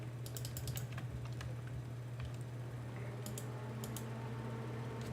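Computer keyboard keys pressed while playing a game, bursts of quick clicking taps in small clusters over a constant low hum, close and moderately quiet, no talking.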